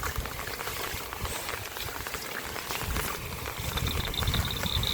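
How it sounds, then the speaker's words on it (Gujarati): Rainwater runs and gurgles steadily after heavy rain, a continuous loud bubbling rush that builds slightly toward the end, with no talking over it. "અહીંયા પણ જુઓ તમે કેટલું પાણી જાય છે"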